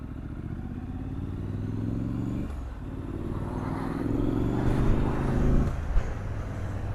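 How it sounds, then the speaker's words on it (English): A 2021 Triumph Street Scrambler motorcycle engine roars while riding, a loud steady drone with rising and falling revs through gear changes, heard close up with wind noise and no talk. "the engine roar"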